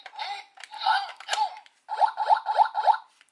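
Electronic chirps and beeps sound from a DX Gashacon Parabragun toy after a button press: a few irregular bursts, a short gap, then four quick, evenly spaced tones close up.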